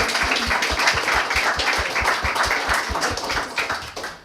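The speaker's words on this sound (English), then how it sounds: "Again, a round of applause for yourselves and the panel" A live audience at a talk at a Liverpool club claps for the panel, with sharp individual claps in a loose steady rhythm that gradually thins and fades toward the end.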